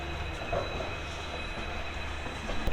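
Steady low rumble and hum inside a carriage of the Sinhgad Express passenger train running from Pune to Mumbai, with faint rattles and a brief wheel squeal near the end.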